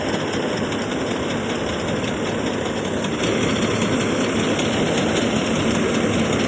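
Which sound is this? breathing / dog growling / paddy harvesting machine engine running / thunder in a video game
paddy harvesting machine engine running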